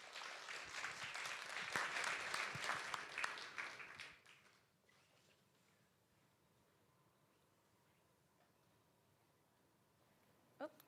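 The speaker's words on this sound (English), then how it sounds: "give them a warm round of applause" An indoor audience at a pilot showcase event claps steadily for about four seconds, dense and fairly close, then the applause fades out into a quiet room hum with a small thump at the end.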